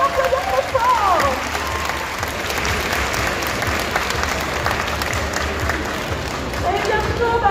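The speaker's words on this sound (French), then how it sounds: "Bravo, on peut l'applaudir très fort." An audience applauds a cosplay competition performance at a geek festival in Bordeaux, with loud sustained clapping filling the hall throughout, swelling slightly at the start and end.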